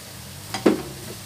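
Shredded tuna and tomato stirred in a pan while cooking a panada filling: one brief, close scrape of the spoon against the pan, with a faint sizzle around it and otherwise quiet.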